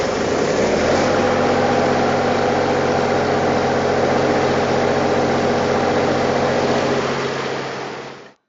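A Kubota-engined EPS 20kW/30kW generator runs at a steady idle after starting, a loud, even diesel drone with a low humming rumble that holds constant and then stops abruptly at the end.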